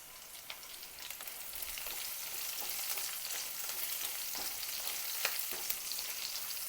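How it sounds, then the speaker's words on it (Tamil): Garlic and green chillies fry in a pan with a steady close sizzle and light crackle, and occasional soft stirring scrapes come through over the hiss. "நல்லா ஃப்ரை பண்ணணும்."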